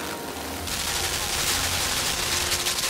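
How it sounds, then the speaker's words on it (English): A machine gun opens fire in the video game Limbo, a dense rattling burst that starts abruptly and rolls on steadily, fairly loud and close. "it's not a laser, it's a machine gun"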